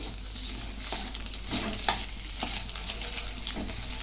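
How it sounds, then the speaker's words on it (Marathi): Eggs frying in a pan: a steady, close hiss of sizzling oil with a few light utensil scrapes and clinks. There is no talking. "अंडे मी सगळी टाकून घेतली आणि भाजून घेते"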